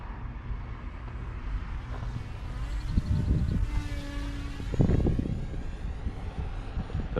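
A Nano Talon Evo RC plane flies over a runway, its small electric motor whining faintly and shifting in pitch as it passes, with a soft wash of wind noise underneath.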